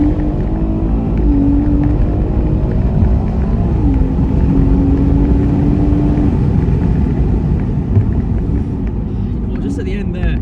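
A 480bhp BMW M140i pulls hard through its gears, a loud, steady engine drone heard from inside the cabin, with the pitch climbing and dropping at each shift while people talk over it.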